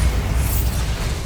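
Bombarda spell in the video game Hogwarts Legacy erupts in a loud, heavy, rumbling blast that stays full and low-pitched for its brief length, with no talking heard.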